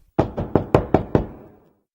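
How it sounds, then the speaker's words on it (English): Six sharp knocks on a door in a quick, slightly uneven run, close and distinct, with a short ring after the last one and no voices. "Then there was a knock on the door."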